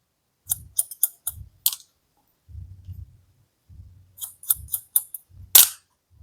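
Scissors snipping through hair during a men's medium-long haircut at a salon, crisp close snips in quick clusters of two to four, separated by soft brushing sounds and brief pauses, with no talk.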